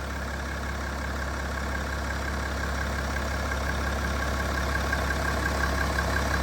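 A BMW X4 3.0d diesel engine idles steadily nearby, a constant low hum with a faint mechanical clatter and no change in revs.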